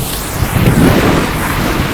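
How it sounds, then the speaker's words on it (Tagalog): Heavy rain pours down in a dense, steady roar, with a gusty rumble swelling briefly in the middle and no voices. "kakain ako kahit nabasang-basa na ako sa ulan"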